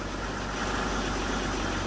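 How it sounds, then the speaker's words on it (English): A Thomas EF school bus engine idles as a low, steady rumble with a diffuse mechanical drone. It is continuous and moderately loud, with no voices over it. "That's our engine"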